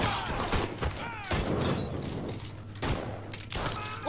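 Pistol gunfire in Mafia III, several sharp shots spaced irregularly over a few seconds, close and fairly loud against a steady low hum and scattered game noise.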